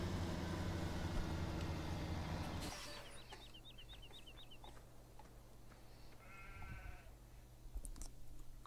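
A flock of sheep in the Farming Simulator 2017 video game bleats several times in quick succession, fairly faint over a low droning game soundscape, after a loud engine-like rumble cuts out.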